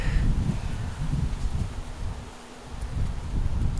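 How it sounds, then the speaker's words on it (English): Low rumbling wind buffeting the microphone outdoors, steady and fairly loud, with faint rustling and a brief lull near the end. "It's kind of windy out here."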